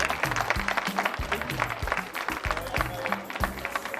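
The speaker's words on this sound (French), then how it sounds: "On les applaudit." Audience clapping at an Antillean evening party in Gurcy, dense and steady throughout, with crowd noise and faint voices mixed in.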